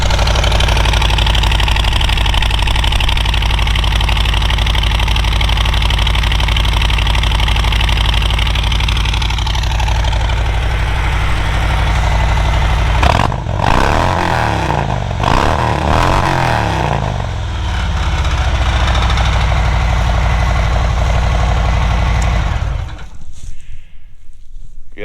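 A 2019 Harley-Davidson Road King Special idles close by on a cold engine, with a steady low, lumpy rumble and a few brief throttle blips in the middle before it cuts off near the end.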